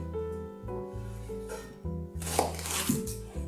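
A kitchen knife chopping garlic on a cutting board, a few quiet separate cuts near at hand, with a busier flurry of chopping toward the end, with no talking.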